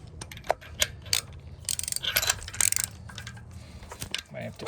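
A ratchet loosens spark plugs on a 2013 Honda Civic, producing close, irregular metallic clicks and clinks, with a busier burst of ratcheting in the middle.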